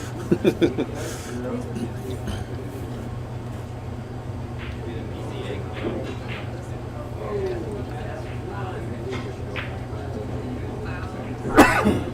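A sharp sneeze bursts out near the end, after a stretch of steady low background hum and scattered small noises with some talk during a pool match.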